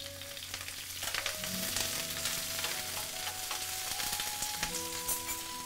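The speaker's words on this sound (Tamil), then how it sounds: "ஸோ இப்போ இது நல்லா ஃப்ரை ஆகும்." Garlic and curry leaves fry in hot oil with a continuous close sizzle and crackle, steady throughout with occasional light stirring and faint tonal kitchen hum beneath.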